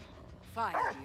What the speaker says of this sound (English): And that's the dog again.